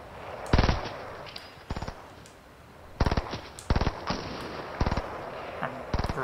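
Rapid bursts of gunfire in the video game Fortnite Battle Royale, several loud short volleys spaced about a second apart, with quieter background sound between them.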